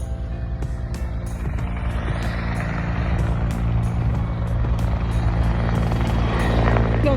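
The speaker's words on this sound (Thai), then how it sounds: "ไปแล้วเครื่องบิน" A practice aircraft drones overhead near a skydiving tower, a loud, steady engine roar that fills the whole stretch and slowly swells as it passes, with no voices.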